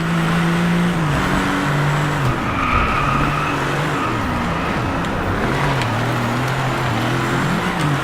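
A race car engine roars continuously in the Driveclub racing game on PS4, its pitch rising and falling through gear changes, with tire squeal and skidding through corners, loud and unbroken throughout.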